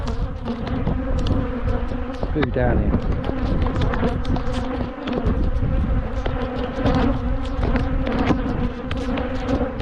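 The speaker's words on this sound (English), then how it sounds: "You probably wouldn't get these bees attacking you now" Bees swarm around an apiary outdoors with a steady, close, droning buzz that fills the whole stretch, and someone speaks briefly over it.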